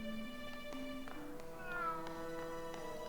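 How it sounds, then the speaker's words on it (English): A cat meows repeatedly in the Grim Fandango video game, with tonal, drawn-out calls over a steady bed of game music. No one talks. "Oh, I hear a kitty."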